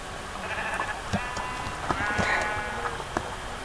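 A brown sheep in the Minecraft video game gives a few short, nasal bleats over a soft, continuous game background.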